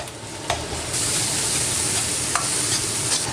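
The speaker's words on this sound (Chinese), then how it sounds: "肉末全部炒散炒香，下入姜蒜" Minced meat stir-fried with ginger and garlic in a wok hisses loudly and steadily, with a few sharp spatula scrapes cutting through the sizzle.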